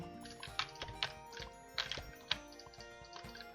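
Mouse clicks while playing Roblox's Work at a Pizza Place: a close, dry run of quick clicks in irregular bursts, with short gaps between clusters and no voices.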